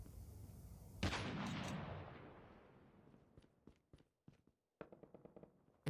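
Gunfire in a Call of Duty battle royale match: a loud burst of shots near the start with a long rumbling decay, then a scatter of sharp, spaced single shots trailing off at moderate distance.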